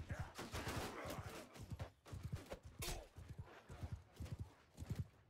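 Horse hooves clop in the Bannerlord online PvP battle game, rapid rhythmic galloping beats running throughout at close range, with sharp gunfire-like cracks mixed in.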